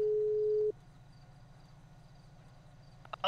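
A steady telephone ringback tone sounds for a call that goes unanswered, a single loud tone lasting under a second before cutting off to quiet room noise.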